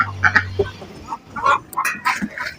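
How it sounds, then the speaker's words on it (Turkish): A duck quacks several times up close, short nasal calls in scattered bursts with brief pauses between. "Ördek içine giriyor. Mahvediyor."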